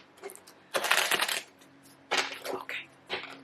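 Playing cards shuffled at a table before drawing a card for a board game, heard as two rapid riffling bursts followed by a shorter flutter, close and fairly loud.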